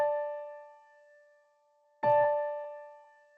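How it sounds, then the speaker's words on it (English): Two clear sustained tones a perfect fifth apart in Pythagorean tuning, D5 then A5, each struck once and ringing out with a slow decay, the second entering sharply about two seconds in. "we'll go from D5 to the next perfect fifth, which is A5"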